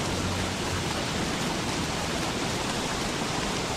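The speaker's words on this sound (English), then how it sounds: "I wish it stopped raining. This really sucks." Steady, dense rain in the video game Don't Starve hisses without a break, loud and close, filling the whole stretch with no voices or other sounds.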